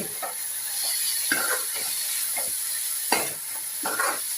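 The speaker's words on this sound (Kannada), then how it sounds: "ಇದು ಸ್ವಲ್ಪ ಫ್ರೈ ಆಗ್ತಾ ಇದೆ ಅಂತ ಹೇಳುವಾಗ ಇದಕ್ಕೆ ಸ್ವಲ್ಪ ಅರಿಶಿಣದ ಪೌಡ್ರ್ ಹಾಕಿ" Methi leaves with turmeric fry in a pan, a soft sizzle running under repeated short scraping strokes of a spoon, about seven stirs spaced irregularly and heard up close.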